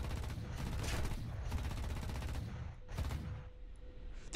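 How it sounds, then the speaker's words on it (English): Rapid bursts of cannon fire from a Viggen supersonic jet fighter in a combat flight game, two or three sustained volleys separated by short gaps, fairly quiet and heard alone. "This gun's too powerful!"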